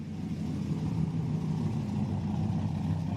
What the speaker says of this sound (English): Let's listen at the mufflers a little bit.